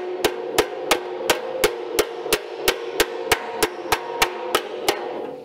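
Sharp metallic hammer strikes on sheet metal over a dowel, shaping a scooter running board, land in a steady, even rhythm, about fifteen blows ringing out close by with no talking.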